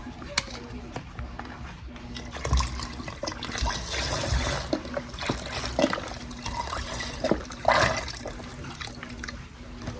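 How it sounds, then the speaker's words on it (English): Water pours steadily from a tap into a pot of beans being readied for long cooking, a continuous splashing trickle with some clatter and a bit of nearby speech. "And then I'm gonna do some more water, about, I don't know, up to here-ish."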